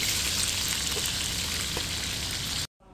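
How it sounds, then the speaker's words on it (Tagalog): Pork belly frying in hot oil gives a steady, dense sizzling hiss close up, running unbroken for a few seconds before cutting out abruptly near the end. "isusunod naman nating ipirito itong ating mga pork belly"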